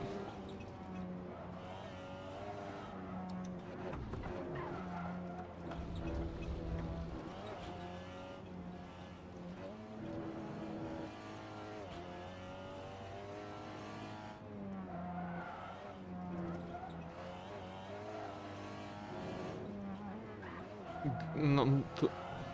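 Race car lapping the Nordschleife in a video game, engine note rising and falling through shifts with a downshift, braking and tyre squeal near the end; loud and continuous beneath someone talking.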